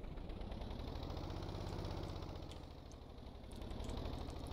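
A container shifter vehicle in Stormworks pulls away with a steady, loud, low engine drone and throbbing vibration, the rumble dipping slightly then building again, with no talk.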